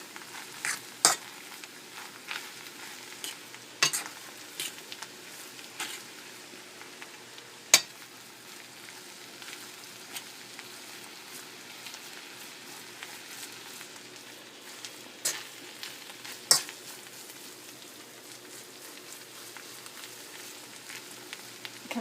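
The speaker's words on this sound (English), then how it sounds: "So, I will add my meat next, which is shrimp pieces. And I stir that into the mix." Shrimp pieces fried in a pan, a soft continuous sizzle broken by repeated sharp scrapes and clacks of a utensil stirring against the pan at irregular intervals, with no speech.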